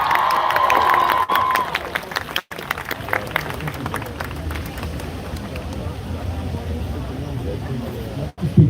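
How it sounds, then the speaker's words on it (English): Crowd at an outdoor Palestine protest applauding and cheering for a speaker, a steady wash of clapping and shouts over a low rumble, with a brief tonal whistle or shout near the start. "can we give Maria a big round of applause"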